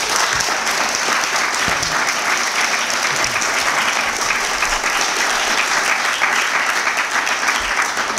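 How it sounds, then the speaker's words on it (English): A large audience at an ASH award ceremony applauds the award winners in a steady, dense, sustained wash of clapping that stays close and even throughout, with no talk over it. "Please give all of them a round of applause."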